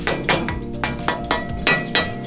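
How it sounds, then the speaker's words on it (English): Small piece of wood being hammered into a metal roof-frame tube for a shipping container build, about six sharp, evenly spaced blows with a ringing metallic clink, close and fairly loud, no talking. "we have this little piece of wood that goes into the tube and we hammer it in there"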